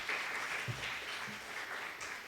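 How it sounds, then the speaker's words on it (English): Steady applause fills a hall at a university talk event, a continuous wash of clapping with a couple of faint voices under it, moderately quiet and sustained throughout. "A big round of applause"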